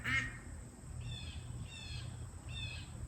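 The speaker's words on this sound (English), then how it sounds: "If it's not roosters, it's ducks." A few raspy duck quacks sound at a moderate distance in short bursts, over a constant high insect drone and low background rumble.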